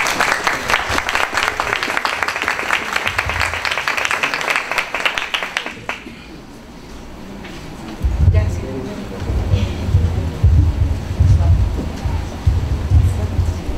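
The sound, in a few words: audience applause for a speaker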